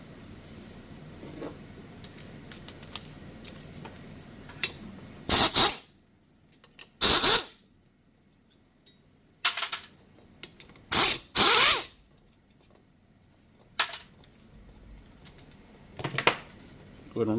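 Small 5/16 bolts are backed out of a Ford Motorcraft 6G alternator from an F-150/F-250 with a power tool, in several short loud whirring bursts separated by quiet pauses and light clinks.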